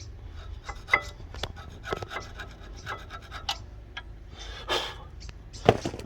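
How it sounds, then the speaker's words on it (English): Wire brush scrubbing light rust off a VW Passat front brake caliper, a steady rasping scrape in short irregular strokes with a few sharper knocks, close up with no talking. "we'll clean here and we'll clean this out as well with a wire brush"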